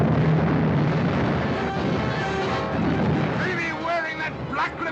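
Cannon fire from a pirate ship's broadside in a 1942 pirate film: a sustained, dense rumble of booming blasts fills the whole stretch, loud and close, while voices shout over it.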